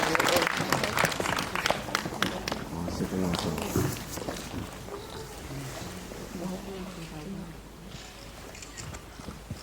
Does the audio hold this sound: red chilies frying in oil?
no